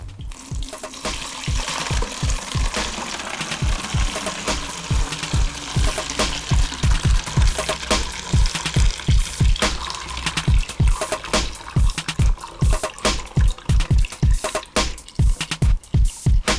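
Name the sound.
pouring C-41 developer chemicals into bottle through funnel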